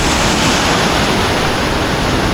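Loud, continuous roar of heavy monsoon water rushing at Mangaon, Raigad, a dense broadband wash with no pauses, close by and drowning out everything else.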